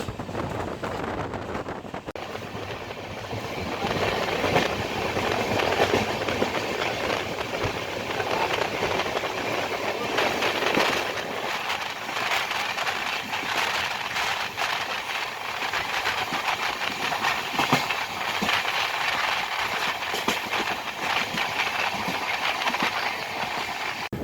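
The Indore–Daund Express runs along the line between Ujjain and Vadodara, heard from inside or beside the train as a steady rumble with clattering wheels and wind buffeting for a long, unbroken stretch.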